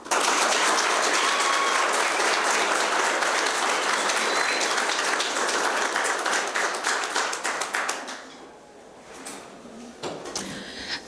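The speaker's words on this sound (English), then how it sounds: "Let's give Alexis another round of applause for graduating." Sustained applause from an audience at a college spring speech contest, steady and dense for about eight seconds before thinning out to a few scattered claps.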